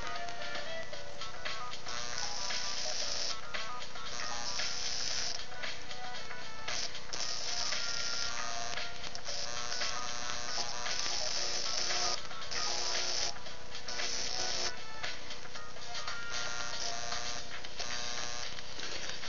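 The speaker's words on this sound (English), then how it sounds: "draw some small arcs and do a little bit of welding off 410 volts AC from two modified Wart transformers" Small high-voltage arcs crackle and buzz from two modified wall wart transformers putting out 410 volts AC, a harsh continuous sizzle with rapid flickering bursts that runs unbroken and close throughout.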